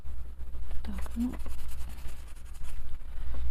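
A yellow pencil scratches softly across paper while coloring hair in a picture, with short irregular strokes close up under quiet murmuring speech.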